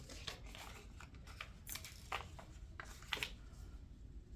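Scissors snip through paper while trimming a foundation paper pieced quilt block, giving a series of short, crisp cuts at an irregular pace, close up and fairly quiet.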